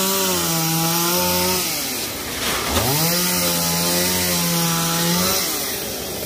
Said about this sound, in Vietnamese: Hôm nay 4 người cưa một lúc cho nên rất là ồn ào luôn.